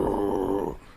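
A man imitates a death metal growl with his voice, producing a low, rough, sustained guttural rasp that trails off abruptly after most of a second, heard close and loud.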